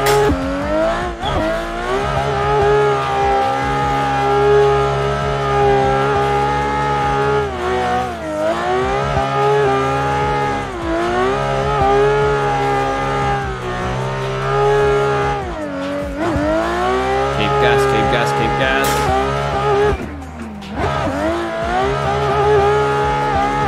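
A race car engine in the Assetto Corsa video game revs hard and steadily through gear changes, with tires squealing through corners, loud and continuous with no talking.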